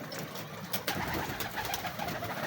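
A male pigeon coos nearby, a soft throaty rolling call heard close and clear against quiet background noise.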